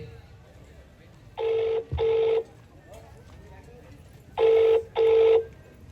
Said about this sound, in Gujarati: કેશવલાલ કોઈને ફોન કરતા હોય એવું લાગે છે